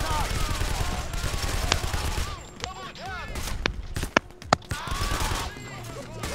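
SMG gunfire in the video game Payday: The Heist crackles in bursts and sharp single shots amid busy game noise, with players talking over the action.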